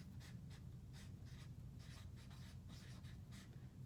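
Pencil or pen strokes scratch across paper in quick, faint bursts, steady handwriting alone against a low background hum.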